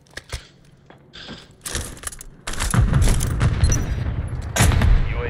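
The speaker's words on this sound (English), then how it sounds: "I'm shooting dead bodies because they're just laying everywhere" Video game gunfire rings out in rapid bursts and single shots, sparse at first and then dense and loud, with no talk over it.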